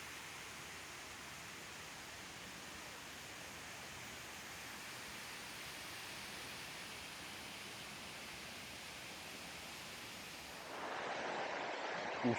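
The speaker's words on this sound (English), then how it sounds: "It's beautiful, beautiful waterfalls" Steady broadband rush of a waterfall in Ubud, Bali, continuous and even throughout, swelling louder and closer near the end.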